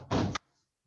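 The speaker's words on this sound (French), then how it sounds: "Je vais fermer la porte." Door closes with a single short, loud thud-like rush of noise lasting a fraction of a second, close by, followed by near silence.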